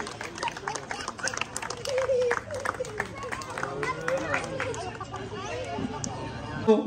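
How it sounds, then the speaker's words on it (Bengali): A crowd claps at a neighbourhood club's Durga Puja opening, scattered claps coming in bursts under chatter and a voice speaking over the babble. "একটু জোরে হাততালি হবে।"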